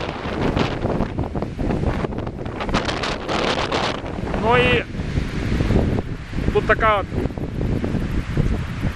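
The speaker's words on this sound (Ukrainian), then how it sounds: "А ще тут дуже сильний вітер." Strong wind at a mountain pass in Ukraine buffets the microphone in a steady roar while someone talks over it nearly the whole time.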